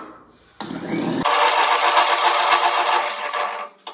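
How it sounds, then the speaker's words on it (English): An electric hand beater whirs on at once, mixing cream for a fruit cream dessert, a steady loud motor buzz running close up for several seconds before cutting off. "I'm using an electric beater"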